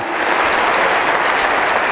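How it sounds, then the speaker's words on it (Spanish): A church congregation claps in worship, a loud, dense, continuous wash of applause that holds steady and close throughout. "Dale un aplauso al Señor."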